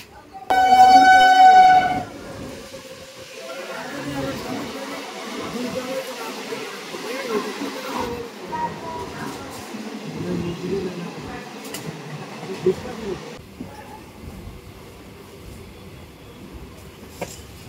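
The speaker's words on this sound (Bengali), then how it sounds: "তো ট্রেন চলে আসলো ফাইনালি, এবার আমরা উঠে পড়বো ট্রেনে" A train horn blares briefly at the start, then a metro train rumbles steadily along the tracks with continuous mechanical noise and faint voices, on Kolkata's underwater metro line beneath the Ganges to Howrah.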